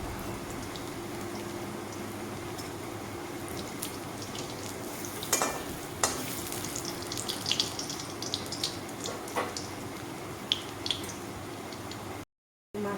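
Vegetarian mock fish pieces frying in a pan give a steady, watery hiss that runs throughout, with occasional louder crackles and pops and a short gap near the end.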